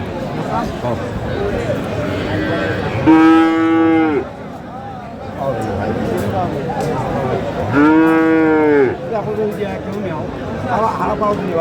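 A Friesian bull calf, about 10 to 12 months old, moos twice in long, loud, drawn-out calls at a busy cattle market, with crowd chatter and talking continuing underneath.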